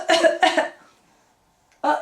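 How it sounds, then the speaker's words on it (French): A baby in the ninth month gives two short coughs close to the listener, then falls quiet before one more brief vocal burst. "Ah, il tousse le bébé."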